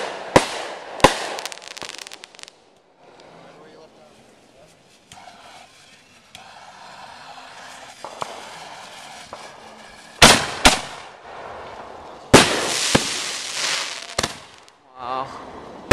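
Fireworks bursting at a Fourth of July 2010 display, loud sharp booms and crackles in clusters, quieter between volleys, with crowd voices in the background.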